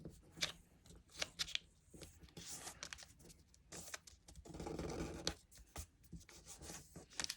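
Paper is creased and folded for an origami heart, with crisp crinkles, soft rubbing and sharp little snaps scattered through a quiet close-up stretch.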